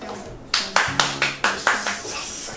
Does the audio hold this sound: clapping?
yes